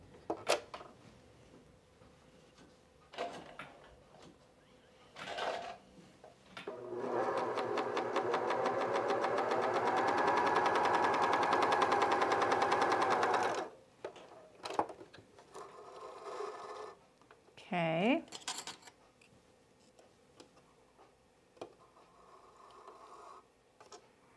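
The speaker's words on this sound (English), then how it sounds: "let's just sew a little bit with the um, regular fabric, get it set up again" A cover stitch sewing machine runs on regular fabric in one sustained, fairly loud mechanical whir lasting several seconds, bracketed by quieter handling clicks and knocks before and after.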